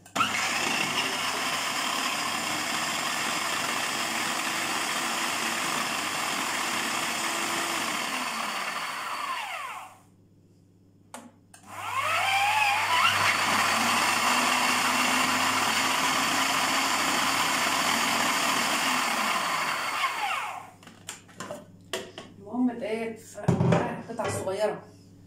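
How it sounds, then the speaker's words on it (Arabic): An electric blender whirs loudly chopping kunafa pastry into small pieces in a home kitchen, running steadily for about ten seconds, pausing briefly, then a second long run, followed by clattering. "الخلاط وتقطعها فيها."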